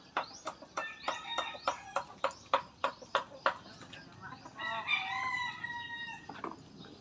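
A rooster crows and chickens cluck on a small backyard farm; a run of sharp, rhythmic clucks is followed by a drawn-out crow, fairly close and clear with no talk.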